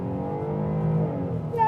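A Jeep Grand Cherokee L Summit with a V6 accelerates along a road, its steady engine drone rising in pitch as it gains speed, heard from inside the cabin and fairly loud.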